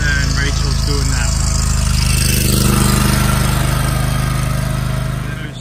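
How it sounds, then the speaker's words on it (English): A lawn mower engine drones close and loud at a steady pitch while mowing, easing off slightly toward the end. "So we're mowing this one, and then Rachel's doing that"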